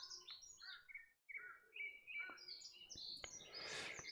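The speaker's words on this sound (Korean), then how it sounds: "여러분 새소리 들립니까?" Faint birdsong: a string of quick, high chirps and short trilling calls, some close and some distant, over a quiet background with a brief gap of silence partway through.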